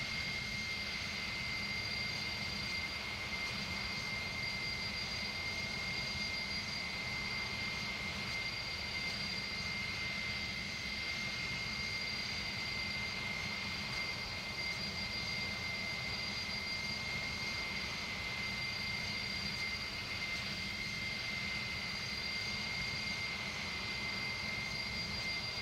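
Simulated jet engines of an Airbus Beluga A300-600ST in Microsoft Flight Simulator give a faint, continuous whine and broadband roar, unchanging for about twenty-five seconds with no voices.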